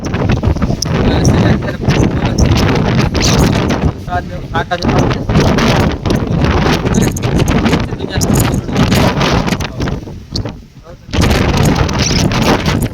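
Strong storm wind roars and buffets loudly and continuously, easing briefly near the end, with a muffled voice breaking through for a moment; roof sheets blown off in Okha, Gujarat.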